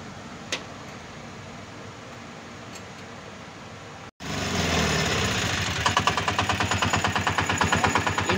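A Piaggio Ape BS6 diesel auto rickshaw with a freshly rebuilt engine cranks and catches after a steady low hum, settling into a loud, rhythmic diesel clatter with regular pulsing knocks, close up and with no talking.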